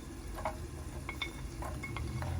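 Garlic sizzles gently in mustard oil while being stirred for a naga chili pickle, a quiet steady fry with faint scrapes and clinks of a spoon against the pan.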